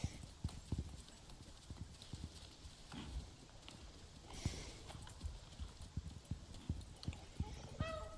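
Horse hooves clip-clop steadily in a video game, a continuous irregular patter of hoof strikes with occasional louder steps, a brief whinny near the end and faint background sound throughout.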